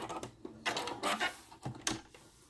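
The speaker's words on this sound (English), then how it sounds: "So I'm just going to flip this around and sew it." A sewing machine stitches through drawstring backpack fabric in short bursts of motor whir, stopping and restarting several times, close and fairly quiet.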